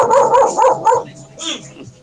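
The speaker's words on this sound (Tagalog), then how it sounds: "Pasensya na, maingay yung aso eh." A dog gives several quick yappy barks in a row, then quieter whimpering yips trail off, close and fairly loud.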